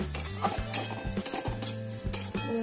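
Rice tipped into a hot pan for polao sizzles and is stirred, a dense crackling fry with repeated scraping and knocking of the spoon against the pan, close and fairly loud.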